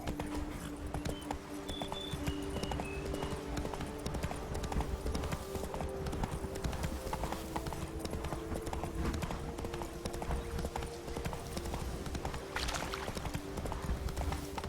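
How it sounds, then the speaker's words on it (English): Horse hooves clip-clopping at a walk in The Witcher 3, a steady rhythmic series of close hoof strikes running throughout alongside a low game ambience, with a brief whistle-like tone early on. "Come on, Roach. Slow now. Whoa."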